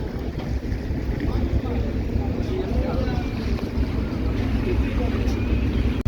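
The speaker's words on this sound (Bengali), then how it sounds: "জমজম কিন্তু চরবরেবের অনেক বড় সড় একটা লঞ্চ" A large passenger launch runs on the river near the Munshiganj ghat in Bangladesh, its engine a steady, loud, continuous rumble mixed with wind buffeting the microphone.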